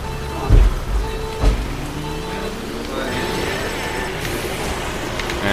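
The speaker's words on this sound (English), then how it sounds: "Look at the rain effects, though." Rain sound effects in the video game Mario Kart 8 make a steady hiss beneath layered game tones, engine whines and a couple of low thumps.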